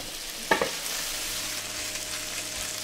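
Onions fry in a pan for tartiflette, giving a steady close sizzle with a brief clatter of a utensil early on, then continuous crackling hiss.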